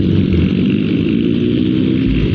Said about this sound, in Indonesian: Waduh ini berisik banget anjir. Ini kita jauhin dulu yang moge-moge berisik cuy.